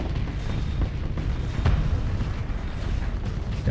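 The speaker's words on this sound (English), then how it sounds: "Shoot more missiles." Missiles launching and exploding in space combat in the game Starsector, a dense continuous roar of blasts and booms with one sharper burst partway through, loud and close, with no talk.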